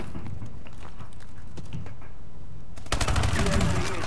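Gunfire in Call of Duty: Advanced Warfare, with scattered shots giving way to a loud sustained burst of rapid automatic fire in the final second, over a busy game mix.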